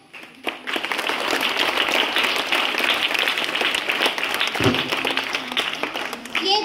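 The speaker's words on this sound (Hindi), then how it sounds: "दोनों श्रेष्ठ आदरणीय गुरुजनों को तालियां बजाकर स्वागत करते हैं।" An audience at a school National Hindi Day celebration claps to welcome two former teachers. Sustained, dense clapping builds quickly after a quiet start, with a few louder individual claps near the end.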